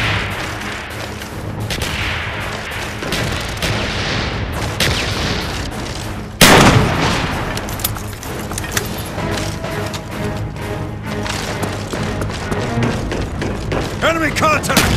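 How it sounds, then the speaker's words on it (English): Heavy explosions and gunfire in a Call of Duty: Black Ops match, with a loud close blast midway amid continuous rumbling battle noise and scattered shots. "Mortar coordinates received."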